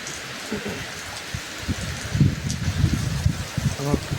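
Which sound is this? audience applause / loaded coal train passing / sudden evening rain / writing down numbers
sudden evening rain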